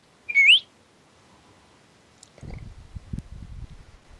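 A single short rising whistle by a person sounds clearly near the start, followed after a pause by scattered low thumps and rustling.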